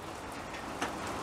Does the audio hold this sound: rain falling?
yes